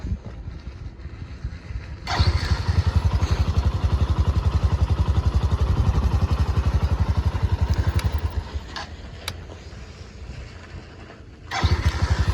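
Bajaj Boxer 150 motorcycle engine cranked by a new starter, catching and running as a loud rapid close thumping idle for several seconds, then dying down and firing up again near the end.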